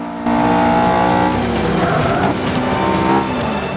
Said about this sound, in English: Some late braking, a little bit of a drift